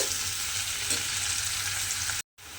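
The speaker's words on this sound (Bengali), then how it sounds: "পেঁয়াজটা এইভাবে একটু লাল লাল করে ভেজে নেব" Steady crackling sizzle of onions frying until reddish-brown in a hot pan, continuous and close, with a brief drop to silence near the end.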